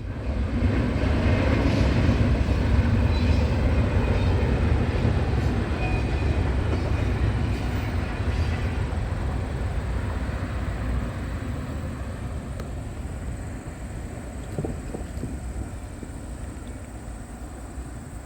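Freight train on a daily manifest shuttle, led by an older and a newer AC-44 locomotive, rumbles past as a broad, steady roar that is loudest at the start and slowly fades over the clip, with no talk.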